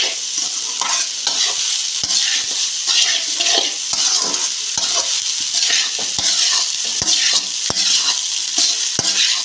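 Egg rice being stirred in a pan, with spoon scrapes and taps knocking steadily against the metal over a constant close sizzle from the frying rice.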